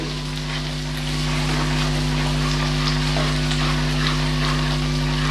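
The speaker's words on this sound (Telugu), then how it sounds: "ఈ అల్లం వెల్లుల్లి పేస్ట్ పచ్చి వాసన పోయే వరకు వేయించాలి." Ginger garlic paste fries in a pan over a medium flame, giving a steady, dense sizzle that holds evenly for the whole stretch with a low constant hum beneath it and no talking.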